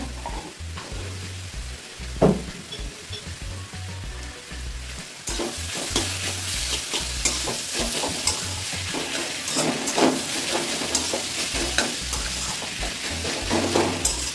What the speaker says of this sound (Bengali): আদা বাটা দিয়ে একটু কষিয়ে নিচ্ছি